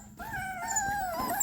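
Rottweiler puppies whimper and cry in a high, drawn-out whine that wavers and bends in pitch, heard close and fairly clear with no talk over it.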